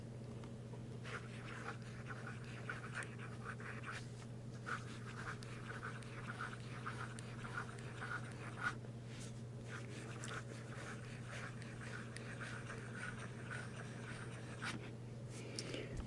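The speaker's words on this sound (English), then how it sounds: "If you can hear the nib on the paper, it's not scratchy." A Cross pen nib moves across paper in quick, faint scratching strokes, repeating in an uneven rhythm over a steady low hum, close and quiet, with no talking.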